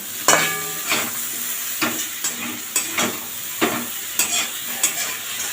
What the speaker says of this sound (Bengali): এই বেগুনগুলো এবার তেলের ওপর দিয়ে দেবো ভালোভাবে মশলাটার সাথে মিশিয়ে নেব